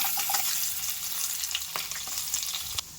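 Mustard seeds, urad dal, chana dal, ginger and cashews crackling and sizzling in hot oil, a steady close frying hiss with small pops throughout.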